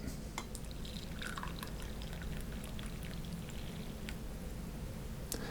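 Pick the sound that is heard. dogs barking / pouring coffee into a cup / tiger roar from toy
pouring coffee into a cup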